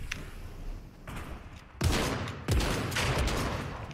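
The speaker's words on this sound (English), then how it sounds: "See what happens when you start shooting like that?" Fortnite gunfire erupts in close, loud bursts of rapid shots, two sharp volleys starting a second apart and continuing as dense firing over a low rumble.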